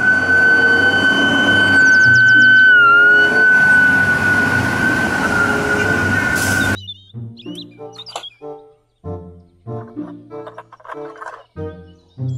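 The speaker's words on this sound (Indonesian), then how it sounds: "Mobil truk pemadam kebakaran." A toy fire truck's loud, steady electronic siren wails continuously for several seconds, then cuts off abruptly, leaving short tonal beeps and chirps.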